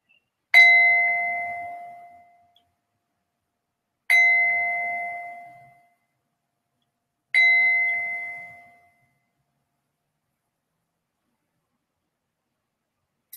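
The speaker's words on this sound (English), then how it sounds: "As I sound the bell" A meditation bell is struck three times at a slow, even pace, each clear ringing tone decaying gradually into silence before the next strike, heard alone in a quiet room.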